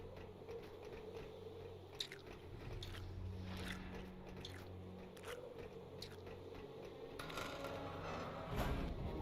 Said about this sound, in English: there's like this almost chewing sound, and it's the little fell beast hatching